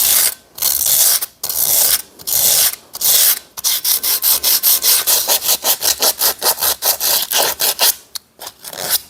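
Bondo filler on a Bison FPU vise is sanded by hand, first in a few long separate strokes and then in a fast rhythmic run of short, loud, close rasping rubs, with no talking.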